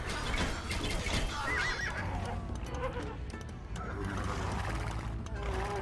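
A horse neighs in the Age of Empires II video game, a shrill whinny heard amid a dense, busy mix of battle and game sounds, with hoofbeats and other noise throughout.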